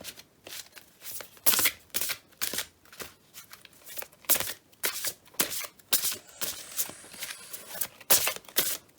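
Oracle cards being shuffled by hand, a close series of crisp riffling and slapping bursts in an irregular rhythm, with no talk.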